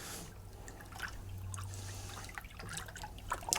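Water swirling and trickling as a dye bath is stirred for ombré sweater dyeing, a steady close liquid wash with small drips and splashes, no voices.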